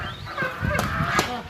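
Several ducks squabble with loud, harsh honking calls, two sharp outbursts standing out over a continuous noisy farmyard bustle.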